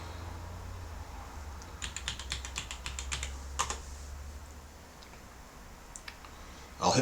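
Typing on a computer keyboard while setting up an Ubuntu install, a quick run of crisp close keystroke clicks followed by a few scattered taps over a low steady hum.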